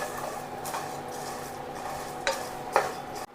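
Thick vermicelli (semiya) roasting in ghee in a pan for semiya payasam, with a steady low sizzle, soft scraping stirs and a couple of sharp utensil clinks against the pan, fairly close and without talk.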